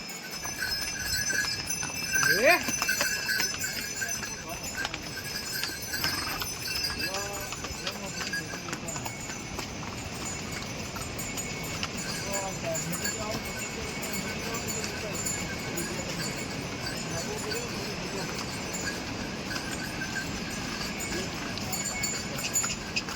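A horse and a mule clip-clop steadily along a mountain road on a Char Dham pilgrimage route, with hoofbeats continuing at moderate distance while people talk throughout.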